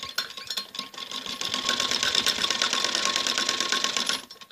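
Close and steady, a sewing machine runs a single continuous seam of about four seconds on a kameez jacket, its rapid needle whir holding even before stopping abruptly.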